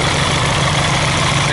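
Mirage 250 motorcycle engine idling with an odd noise after exhaust welding, a loud steady rumbling drone with constant low vibration, close by and without talk.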